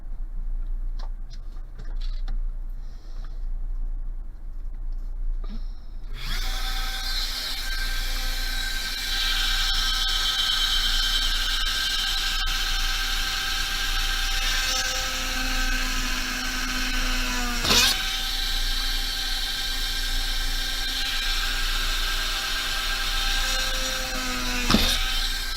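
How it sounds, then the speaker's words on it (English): A power drill whines steadily at high pitch for over twenty seconds, drilling through earring blanks, starting abruptly and holding close and loud, with brief sharper catches as the bit bites. "One more time with the drill."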